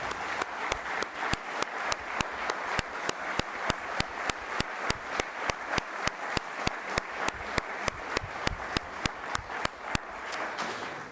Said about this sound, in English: I just thought we could give her a round of applause.